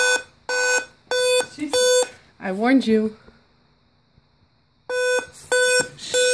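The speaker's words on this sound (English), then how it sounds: "it's gonna start beeping" Loud, harsh electronic beeps from a broken Dell computer in regular bursts, stopping briefly while a person speaks and exclaims, then resuming in the same rhythm.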